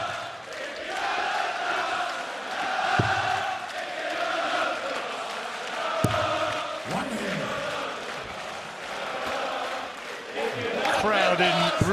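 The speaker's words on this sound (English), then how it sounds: "Crowd in really celebratory mood tonight." A darts arena crowd at the Masters roars and chants in a celebratory mood, a steady dense wall of cheering and singing with scattered shouts.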